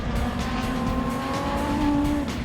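Sprint cars race on a dirt track, their engines droning together in a steady high-pitched roar with a wavering tone as several cars run side by side, loud and continuous throughout.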